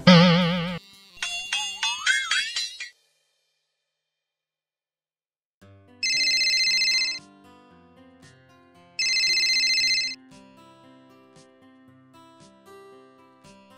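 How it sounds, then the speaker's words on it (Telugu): A telephone ringtone rings in a comedy sketch, with bright repeating electronic tones in two loud bursts separated by a pause, laid over quiet background music. "ఎవరో ఫోన్ చేస్తారు."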